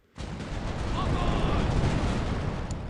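A sudden heavy boom of pirate ship cannon fire in the online game The Pirate: Caribbean Hunt, swelling into a sustained loud rumbling roar, close and dense, with no talking.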